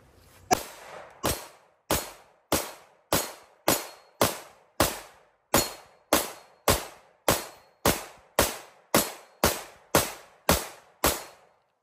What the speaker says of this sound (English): This will be his first shots running through with this weapon.